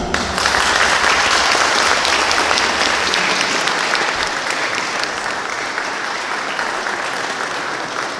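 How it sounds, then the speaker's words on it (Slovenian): Sustained applause from an audience at a gala concert in a knights' hall, steady and dense clapping filling the room for about eight seconds with no voices over it. "Tako da en aplavz za vas."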